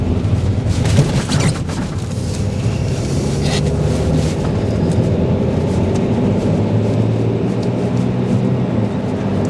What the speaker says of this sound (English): I didn't even give it half a throttle then, maybe quarter of the way down on the accelerator pedal